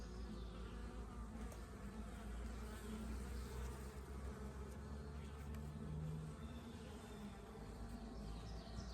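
Dense, steady buzzing of many honeybees around an open hive during an inspection, filling the whole span at close range with a continuous drone and no talk.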